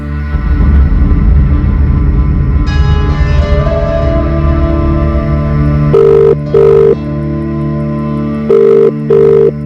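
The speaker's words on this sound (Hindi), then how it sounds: "घंटी जाती रही पर किसी ने मेरा फोन नहीं उठाया" A phone rings out on an outgoing call that nobody picks up: four short, steady ringback tones come in pairs near the end, over a dramatic background score and low rumble.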